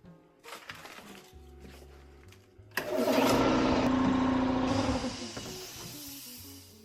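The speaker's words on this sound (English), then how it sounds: "we're actually gonna turn on our air compressor, because we're gonna need air to basically replace the volume of oil within this drum" An air compressor for a Harbor Freight 20 gallon oil drain kicks on and runs loudly and steadily, a droning motor with hiss, after quieter mechanical noise at the start.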